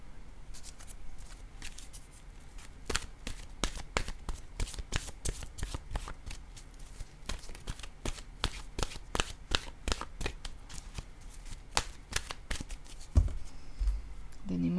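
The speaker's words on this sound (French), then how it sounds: "Je vais maintenant piger une carte de mon oracle de l'âme intuitive." Oracle cards from an intuitive-soul deck shuffled by hand in a steady run of crisp riffling snaps and flicks, close and fairly loud, with a soft thump near the end.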